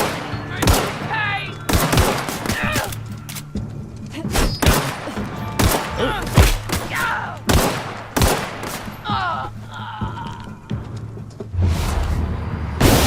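Gunfire from The Outer Worlds, repeated sharp shots and bursts scattered through a steady combat soundscape, with someone talking over the action at times.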